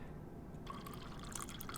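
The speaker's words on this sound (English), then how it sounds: "Pour the water out." Water pours out of a film developing tank. The spatter and trickle start partway through and go on to the end, soft and close.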